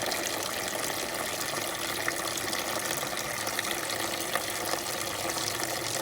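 Coolant draining from a drain plug on a 1966 Ford Thunderbird, a continuous, even trickling and splashing of liquid that stays steady and fairly quiet throughout.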